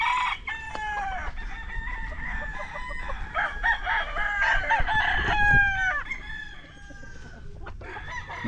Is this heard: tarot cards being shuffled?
no